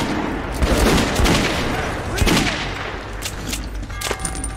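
Gunfire in the shooter Metro 2033 Redux: rapid volleys of shots and heavy booms, loud and close, bunching in bursts and then thinning out over busy game ambience.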